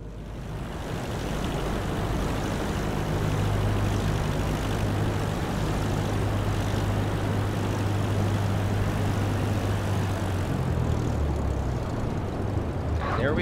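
A Cessna 172 single-engine propeller plane in Microsoft Flight Simulator 2020 rolls out after landing. Its engine makes a loud, steady drone with a low hum, holding nearly constant before the tone shifts near the end. Speech sits faintly underneath.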